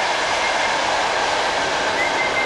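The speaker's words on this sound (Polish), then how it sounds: "Tu przed chwilą przejeżdżał pociąg, także troszeczkę hałasu mieliśmy." A train rolls past near a pigeon loft, a steady, loud broadband rumble and rail roar that holds evenly throughout with no talk over it.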